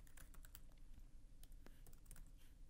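Quiet, irregular clicking of keys on a Windows computer keyboard as a compile command is typed, with short bursts and pauses and no talk.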